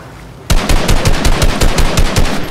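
Rapid, evenly spaced gunshots from a sniper rifle in a video game start abruptly and keep cracking loudly in quick succession, about a dozen sharp reports in two seconds, with no voices.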